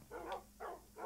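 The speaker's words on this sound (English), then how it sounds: "Oh, a puppy went after it." A tamed Minecraft wolf barks in the video game, three short, close bark-like bursts in quick succession, fairly quiet and with no talking.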